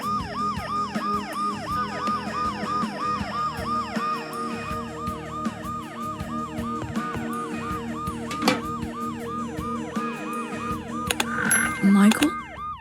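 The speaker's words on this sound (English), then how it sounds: "the ambulance's deafening siren" A wailing ambulance siren from the video game Dead Synchronicity cycles in rapid, repeating up-and-down sweeps, loud and continuous over a steady background hum, with a few sharp knocks near the end.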